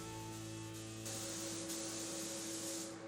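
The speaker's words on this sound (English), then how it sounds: "Thinning out the engine enamel and spraying it gives us a smooth, shiny finish" A steady, even hiss of spray-painting thinned engine enamel on a custom 419ci supercharged LS3 inside a spray booth, with the spray growing slightly louder partway through over a constant background hum.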